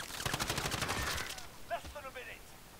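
Rapid automatic gunfire from the video game Call of Duty Warzone, a fast burst of repeated shots lasting over a second at close range, then quieter game sounds and brief voices over the game audio.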